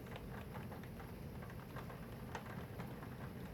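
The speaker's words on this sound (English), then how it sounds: "I hadn't realized it had started raining this hard." Heavy rain pours steadily outside, a dense, even hiss with scattered sharper drops, heard faint and muffled as if from indoors, with no voices.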